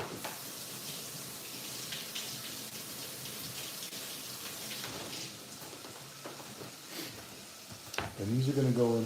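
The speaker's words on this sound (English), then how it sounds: "Can you rinse these off?" Potatoes rinsed under a running kitchen tap for homemade soup, a soft, steady hiss and splatter of water with small clatters, fairly faint, before a voice speaks at the very end.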